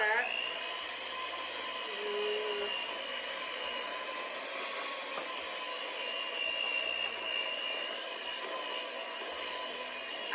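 An electric mixer whirs steadily through chocolate icing for a chocolate bonbon cake, a continuous high buzzing motor tone that holds for about ten seconds.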